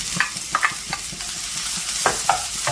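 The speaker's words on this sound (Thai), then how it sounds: "ใส่น้ำมันลงกระทะแล้วเล็กก็จะตามด้วย ตัวของข้าวโพดอ่อนแล้วก็เห็ดหอมค่ะ" Baby corn and shiitake mushrooms stir-fried in oil in a wok, with a continuous sizzle broken by repeated scraping strokes of a spatula, close and fairly loud, no talking.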